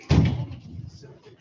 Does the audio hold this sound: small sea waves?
no